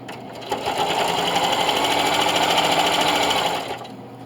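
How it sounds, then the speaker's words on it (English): A sewing machine hums in one steady, fairly loud run of rapid stitching for about three seconds while sewing down black-threaded binding on a double mitt hotpad, then stops. "just sew down your binding"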